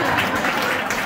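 Comedy club audience in New Hope applauding, a dense steady wash of clapping that fills the short moment evenly and close, with no break in it.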